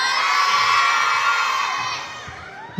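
Audience at a film premiere for the Indonesian film Munafik in a Malang cinema cheers and shouts loudly as a crowd, the roar sustained and then tapering off near the end.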